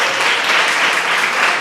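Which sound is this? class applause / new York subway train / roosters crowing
class applause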